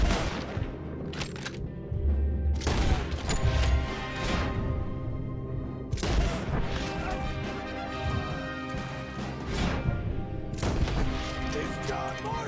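Dense, loud gunfire and crashing impacts from a shootout in Red Dead Redemption 2, continuous bursts of shots and smashes filling the whole stretch with no pause.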